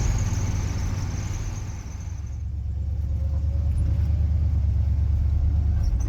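Classic catering truck with a 351W V8 on a road test drive, a steady low engine rumble and road roar heard from inside the cab, building gradually as it accelerates with no one talking.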